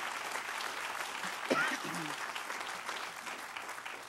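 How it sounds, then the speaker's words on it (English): An audience at an ISC groundbreaking ceremony applauds continuously in dense, even clapping, with a voice briefly heard over it. "Give him a round of applause."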